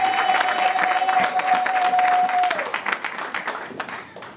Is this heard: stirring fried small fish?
no